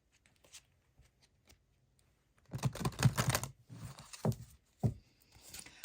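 Oracle cards being shuffled and drawn by hand, a few faint taps, then a dense burst of close riffling and flicking, followed by scattered sharp card slaps.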